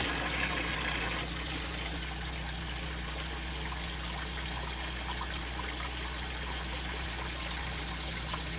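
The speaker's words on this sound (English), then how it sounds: "if I keep it just outside of the water surface, I'm going to break that water surface just like falling water would" Water drops from an aquaponics relief valve pipe onto a tank's water surface, a soft, steady trickle and splash under a constant low hum, faint and unbroken with no talking.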